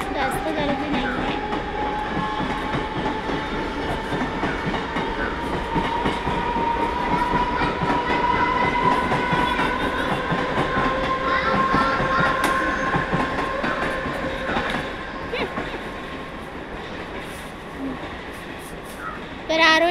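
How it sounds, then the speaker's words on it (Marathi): A passenger train on a quiet Saturday platform pulls in and runs along the rails, a steady loud rumble with clickety-clack and faint wheel squeal throughout, brief voices near the end. "ट्रेन आलेली आहे."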